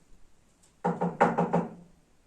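A burst of knocks on a door, two then three in quick succession, fairly close and clear, with quiet before and after.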